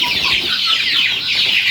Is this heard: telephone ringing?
no